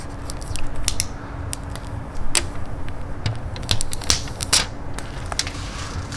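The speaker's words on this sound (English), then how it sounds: "And you got the nice protective cover, which everybody loves to peel off." Protective plastic film is peeled off the screen of a Fanttik tire inflator, a series of close, sharp crackles and ticks in irregular bursts with brief pauses between them.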